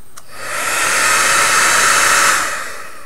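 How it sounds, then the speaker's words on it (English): A hair dryer used to speed-dry paint on a miniature roars loud and close, a steady broadband whoosh that swells up and tapers off over about three seconds. "The stream was great until you pulled out a hairdryer."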